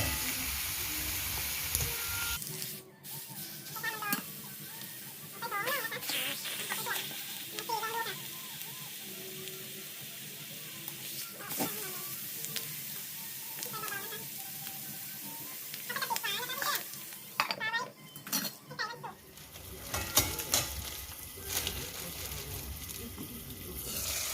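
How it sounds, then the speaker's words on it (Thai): Chicken pieces frying in a hot pan give off a steady sizzle and hiss that runs throughout, with someone talking over it at intervals. "ตั้งกระทะร้อนแล้วนะคะเพื่อนๆเราก็จะมาเอาไก่ลงไป จีในกระทะเลยนะคะ"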